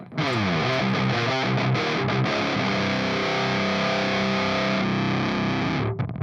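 Heavily distorted electric guitar through an amp simulator plays loud, sustained chords and riffs, saturated and fuzzy, ringing out alone before cutting off.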